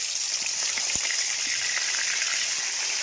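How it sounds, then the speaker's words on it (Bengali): Round-sliced potatoes frying in hot oil in a home kitchen, a steady, continuous hiss and sizzle with small crackling pops, loud and close, without speech. "এবারে একটু আলু ভেজে নেবো।"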